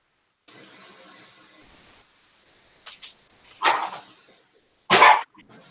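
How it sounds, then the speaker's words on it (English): A dog barks indoors, two or three sharp loud barks near the end that follow a brief hiss and a few softer noises. "This is my loudmouth dog, Skinny."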